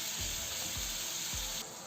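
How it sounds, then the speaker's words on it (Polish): Chicken pieces frying in a pan give off a steady, close hiss and sizzle, with a few soft low thumps and a slight drop in level near the end. "Kurczaka trzymamy na patelni dotąd, aż wszystkie kawałki będą dobrze usmażone."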